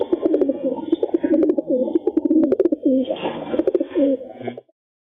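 Pigeons coo steadily and close at hand in a continuous run of soft, throaty, rolling calls, with light fluttering and rustling mixed in before it ends abruptly.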